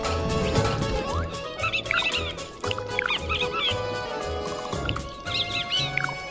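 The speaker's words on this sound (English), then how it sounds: "That's a bird." Bird squawks and clucking honks from Super Mario Odyssey come in short repeated bursts over steady game music and sound effects, moderately loud within the mix.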